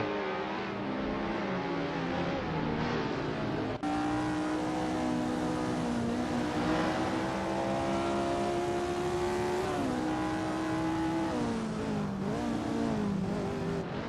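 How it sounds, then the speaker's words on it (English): Supercars race around Road Atlanta in a racing simulator game, with steady, high-pitched engine whine that rises and dips through gear shifts, heard continuously with no talk. "We are currently watching a racing simulator where our driven cars are competing."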